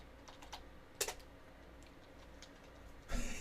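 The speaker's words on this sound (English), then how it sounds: "why is everybody typing?" Several people type on computer keyboards, soft scattered key clicks close by at a low level with a couple of sharper clacks and a louder burst near the end.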